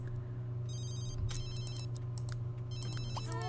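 A ringing telephone in The Sims 3 gives repeated short electronic trills, in groups with brief gaps between them, over a steady game background hum.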